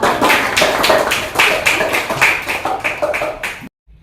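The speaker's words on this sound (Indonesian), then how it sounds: "Tepuk tangannya dulu." Classroom clapping from a group of pupils in an Indonesian primary school lesson, a steady run of quick claps for over three seconds before stopping abruptly.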